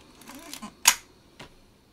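Film winding on a Chinon camera fitted with an info back: a short mechanical ratcheting burst followed by a sharp, loud click and a fainter second click, close up and otherwise quiet.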